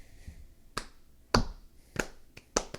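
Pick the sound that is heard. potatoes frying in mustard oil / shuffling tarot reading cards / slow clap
slow clap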